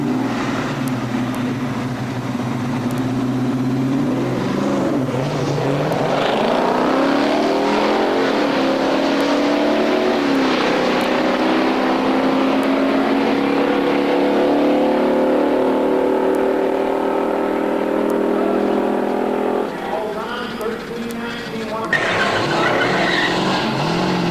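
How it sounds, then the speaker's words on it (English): A Chevelle Super Sport drag car launches at a 2003 race at Norwalk with a loud, sustained engine roar that rises and falls through the throttle, layered with squealing tires, then a brief dip before the noise resumes. "And Tim Clary is still looking for the balance of just the right amount of throttle and clutch in his Chevelle Super Sport."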